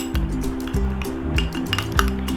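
A spoon repeatedly clinks against a bowl while stirring thick besan face pack paste, a steady rhythm of close, bright scraping taps with no talking.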